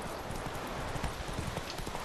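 Horse hooves clopping at a steady trot in The Witcher 3, a dense, continuous rhythmic clatter over loud outdoor ambience, close and prominent for the whole two seconds.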